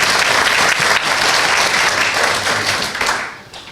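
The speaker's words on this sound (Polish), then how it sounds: "Także brawo dla nas." Loud, sustained applause from a graduation ceremony audience celebrating the graduates, dense clapping that holds steady before tapering off at the end.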